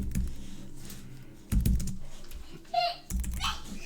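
Computer keyboard typing, clattering steadily and close up in short bursts while notes for college are typed out, with a few louder pauses and clicks between runs.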